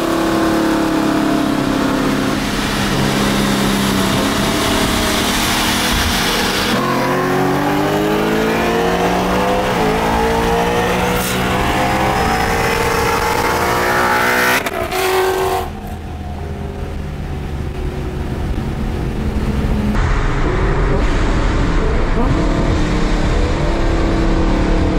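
Coyote V8 race car built to about 800 wheel horsepower and running on E85 fuel, roaring loud and close as it accelerates hard in a drag race, climbing through gear changes with a steady heavy engine drone.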